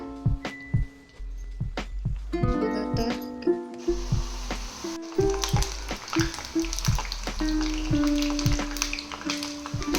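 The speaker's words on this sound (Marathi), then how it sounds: "हे आपले पुरी तळून तयार." Puris deep-fry in hot oil with a crackling sizzle, close and moderately loud. Irregular clinks and taps of a utensil against the pan break in throughout, with no talking.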